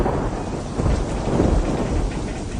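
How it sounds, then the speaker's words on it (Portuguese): Heavy rain pours down steadily in a thunderstorm, a dense, loud wash of noise with deep rolling rumbles of thunder swelling beneath it and no pauses. "E a terrível tempestade continuou."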